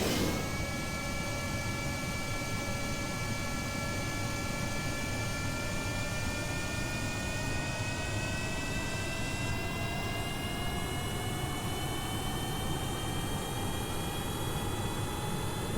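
A plane engine in Kerbal Space Program drones steadily, a continuous jet-like roar with rising whining tones that climb slowly, heard alone with no talking.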